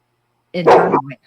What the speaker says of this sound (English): I've got a couple Labrador retrievers here barking